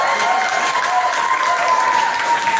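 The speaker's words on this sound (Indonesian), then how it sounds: "Tepuk tangan sekali lagi buat" An audience applauding at the close of a recruitment meeting, with steady, dense clapping throughout.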